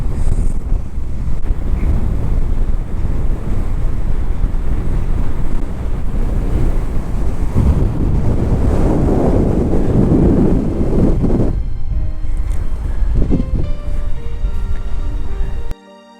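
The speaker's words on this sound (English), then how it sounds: "It's extremely high gusty winds." Strong gusty wind at an Australian beach buffets the microphone with loud, continuous roaring rumble, with surf mixed in; the wind drops off near the end, leaving quieter ambience before a sudden cutoff.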